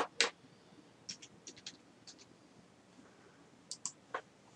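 Computer mouse clicks while launching the GIMP image editor in Ubuntu 11.10, a few sharp, close clicks scattered with pauses, some in quick pairs, over a quiet background.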